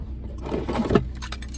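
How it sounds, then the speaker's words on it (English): A bunch of keys jangling close by, a short metallic rattle building and then a few bright clinks trailing off, with no talk over it. "keys."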